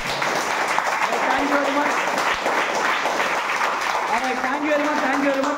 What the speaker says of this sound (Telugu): ఫైనల్గా ఒక్కసారి గట్టిగా చప్పట్లు కొట్టండి